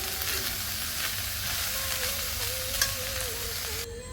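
A carrot and bean stir-fry sizzles in a pan, a steady close frying hiss with light stirring, ending abruptly.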